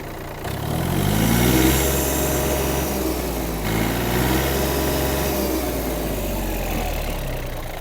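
A Yanmar AF-22 Japanese mini tractor engine revs up steadily from idle, holding a high, buzzing drone that dips briefly and then rises again, loud and close.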